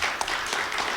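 Small audience of friends clapping at a labor conference session, a steady close patter of hands filling the whole moment without voices.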